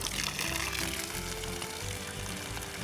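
Water from an IBC tote holding about 100 gallons runs out through a garden hose, a steady hissing, splashing flow that continues throughout at moderate loudness, with no one talking.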